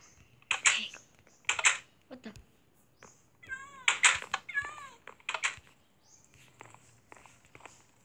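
A pet cat gives a couple of short, rising meows indoors, mixed in among clattering keyboard-like taps and rustling, fairly quiet and close.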